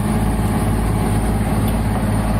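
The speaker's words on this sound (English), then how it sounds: "So diesel engine is running." A diesel engine on a Niftylift HR28 lift runs at a steady idle, a loud continuous low rumble close by with no change in pitch and no talking.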